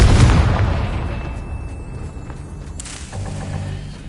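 A Confringo fire spell exploding in Hogwarts Legacy, a loud close blast that decays into a rumbling tail, with a second smaller burst near the three-second mark.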